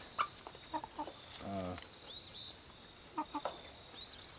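Chickens cluck in short, scattered bursts close by, with a few louder calls and a brief squawk in between.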